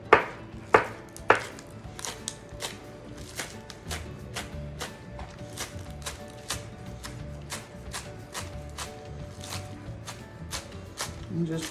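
A knife chops green onions on a cutting board in a series of sharp, regular strikes, a few loud thumps at the start and then a steady run of lighter cuts continuing alone throughout.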